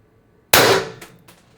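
A single sharp, loud report from a Beeman BP50 air pistol charged with 1050 PSI high-pressure air, followed by a decaying ring and a couple of faint echoes.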